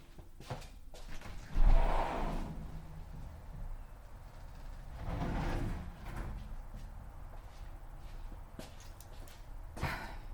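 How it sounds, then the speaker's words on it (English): A back door is opened, giving a loud scraping, rustling burst followed a few seconds later by a second softer sliding movement and faint clatters, with no talking. "Let me go ahead and open up this back door"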